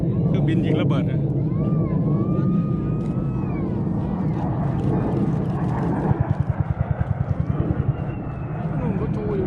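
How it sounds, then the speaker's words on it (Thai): US Air Force fighter jet at an air show at a Las Vegas air base: a loud, sustained broadband jet roar fills the clip, with a rapid pulsing rumble near the end. "เครื่องบินขับไล่ครับของทัพสหรัฐ"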